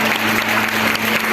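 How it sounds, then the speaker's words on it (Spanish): A congregation claps together during a revival service in a church in Panama, a dense and loud wash of hands over a sustained musical hum, continuing without a break. "Dele un aplauso al que reina."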